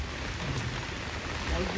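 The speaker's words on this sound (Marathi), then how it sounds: "फुल पाऊस आहे असं भयानक की काय सांगायचं" A short burst of heavy rain, a dense low rushing hiss with a deep rumble, steady across the brief moment.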